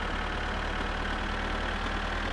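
A tractor engine in My Summer Car idles with a steady low rumble that stays constant and fairly close, with no voices over it.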